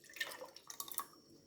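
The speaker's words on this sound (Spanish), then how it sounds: "le vamos a agregar el tomatillo verde procesado y el azúcar disuelta en agua" Tomatillo verde procesado and sugar dissolved in water being poured into liquid gelatin for water ice pops, a faint, brief trickle with a few light drips and splashes, heard alone.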